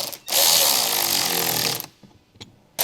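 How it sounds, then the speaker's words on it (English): An electric ratcheting wrench fitted with a T20 Torx bit tightens the upper mud flap bolts while replacing the side step on a 2010-2016 Land Rover Discovery 4 L319. It gives one loud, close whirring burst of nearly two seconds, then quiet clicks. "Use a T20 Torx bit with an electric ratcheting wrench."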